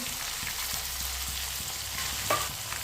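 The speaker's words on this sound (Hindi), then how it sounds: "दो बरीक कटे हुए टमाटर डाल लेंगे।" Finely chopped tomatoes and green chilies frying in a pan of browned ingredients for a black chickpea curry, giving a steady sizzle with soft stirring scrapes throughout.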